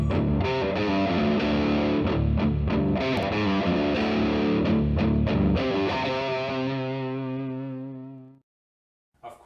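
An electric guitar runs through a Digitech Whammy set to drop the pitch a full tone, playing a distorted riff that ends on a sustained, fading chord, closed by a brief click.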